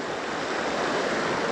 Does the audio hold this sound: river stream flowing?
yes